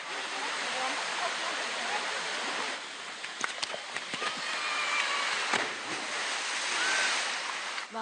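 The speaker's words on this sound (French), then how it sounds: "Une forêt tropicale où les randonneurs découvrent une cascade entourée d'une végétation luxuriante." Waterfall in a tropical forest at Parc des Grandes Fougères, Farino, New Caledonia, giving a steady hissing rush with a brief dip midway and faint bird chirps over it.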